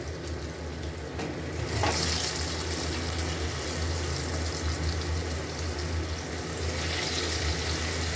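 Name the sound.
frying chicken khadi pakoras in oil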